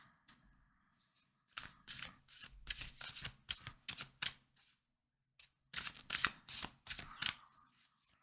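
Tarot de la Nuit tarot cards being shuffled by hand, close and crisp riffling in two bursts of quick rustling flicks separated by a short quiet pause.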